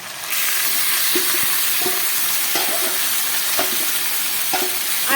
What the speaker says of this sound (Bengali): এবার এই ম্যারিনেট করে রেখেছি খাসি মাংসটা সেটা দিয়ে দিচ্ছি